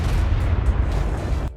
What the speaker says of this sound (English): I heard a couple explosions in the distance and went to go check it out.